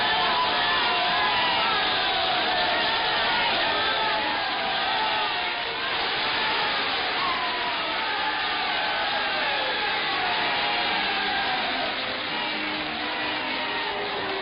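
Huge crowd of about 100,000 in Valletta, Malta, in 1943 cheering the king on a balcony, a dense, continuous roar of voices with scattered shouts, heard through thin, muffled old newsreel sound.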